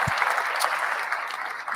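A crowd applauds steadily at a live online education event, dense clapping held at an even level throughout with no voices over it.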